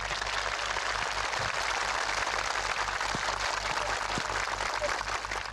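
Warm, sustained applause in a television studio honouring veteran actress Tian Hua at a Spring Festival military special: a steady, dense patter of many hands clapping, evenly loud throughout with no voices over it.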